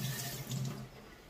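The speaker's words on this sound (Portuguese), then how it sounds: "Deixa eu lavar minha colher aqui." A kitchen tap runs in a steady, close rush of water while a spoon is rinsed during polenta cooking, tapering off slightly toward the end.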